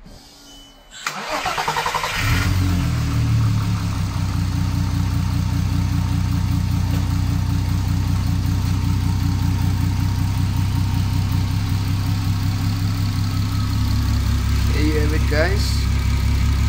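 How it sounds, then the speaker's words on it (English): A VW Golf Mk4 R32 turbo on an Emerald K6 ECU, restarted after three months, cranks briefly, catches and settles into a loud, steady close-up idle. "let's see how easily an Emerald K6 can start an R32 after"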